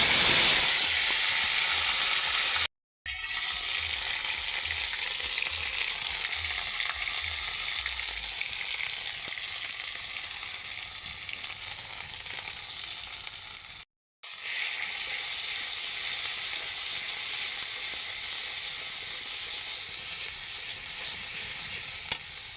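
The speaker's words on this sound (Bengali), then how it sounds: "কড়াইতে তেল দেওয়া আছে, সেখানে এই যে আদা রসুন জিরা আর পেঁয়াজ বাটা আছে" Ginger, garlic, cumin and onion paste fries in oil in a wok with chopped green chillies, giving a steady loud sizzle that runs almost continuously, broken by two brief silent gaps.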